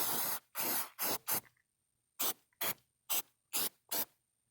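Cleaner sprays onto the mass airflow sensor of a Mercedes 5.5 litre V8 in a run of short, sharp hissing bursts, four close together and then five more after a pause, near and fairly loud.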